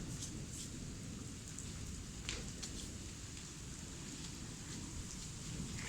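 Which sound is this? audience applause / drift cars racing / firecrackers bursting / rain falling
rain falling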